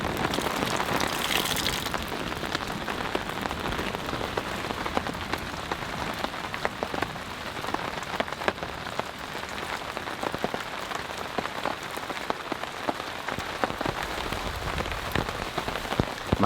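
Heavy rain pours steadily on a backpacking camp, a dense, loud, unbroken hiss with close raindrop patter throughout and no voices.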